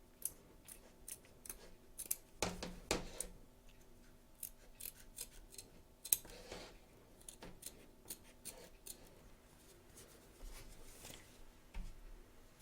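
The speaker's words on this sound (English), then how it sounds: "turn your hoop over and cut around the edge" Scissors snip through stabiliser around a small 2.25-inch embroidered appliqué letter on the back of a hoop: a quiet, close series of irregular crisp cuts with short pauses between them.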